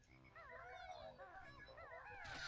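Banjo-Kazooie frog croaks, a run of warbling, bouncy game-character calls over a low, steady buzzing backdrop, fairly loud and continuous with no talking.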